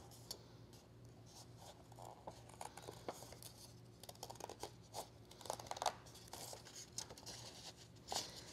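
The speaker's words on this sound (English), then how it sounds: "you're going to use small scissors to cut this out" Small scissors snip through paper in quick, irregular cuts, with faint rustling as the sheet shifts between snips.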